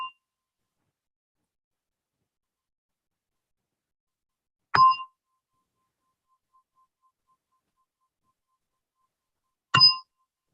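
A meditation gong or bell gives two bright, clean strikes about five seconds apart, each a short metallic ring that decays quickly into near silence, with nothing else heard between them.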